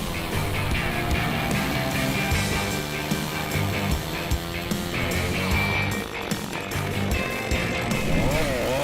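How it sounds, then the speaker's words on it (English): A chainsaw saws through a giant cedar tree, its engine running loud and steady at close range for the whole stretch, with shifting pitch as the chain bites into the wood. "Another scene of sawing a giant cedar tree made me extremely nervous."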